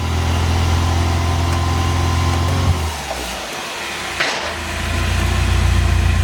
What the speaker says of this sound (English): That cold start is brutal.